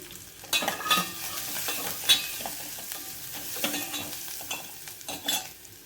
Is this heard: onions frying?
yes